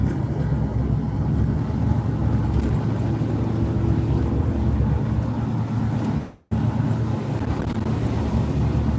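A truck cruising along a road near Frydlant, heard from inside as a steady, loud low engine and road rumble with wind noise, briefly cut out for a moment before resuming.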